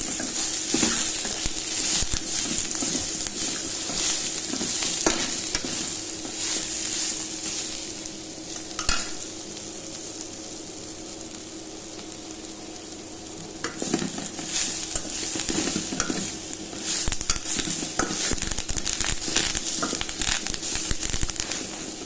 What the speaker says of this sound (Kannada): ಅದು ಎಲ್ಲ ಫ್ರೈ ಆಗತೈತಿ